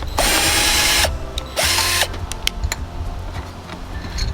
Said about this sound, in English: I am putting that screw in right now